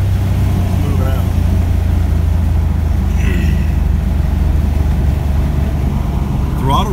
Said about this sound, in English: Throttle response on this thing actually feels pretty good.